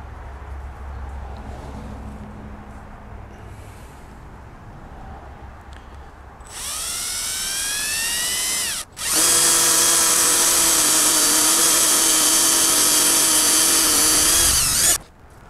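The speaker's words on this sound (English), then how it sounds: "Just gonna use a cordless drill." Cordless drill boring into metal on a Chrysler Slant 6 generator, starting after a quiet stretch with a rising whine, a brief stop, then a loud steady high-pitched drilling whir held for several seconds before cutting off, close up, no speech.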